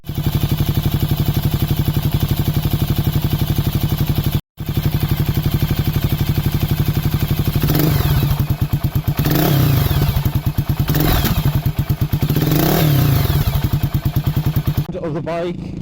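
A black 2008 Honda CB400SS motorcycle with an aftermarket exhaust gives a loud, close, pulsing engine note while riding. A brief dropout comes early, then the revs rise and fall several times in repeated swells, with no talk heard.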